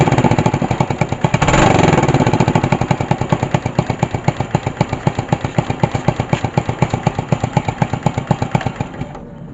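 A motorcycle engine runs close by after a spark plug fault, with a steady rapid putter, revving briefly near the start before settling into an even idle.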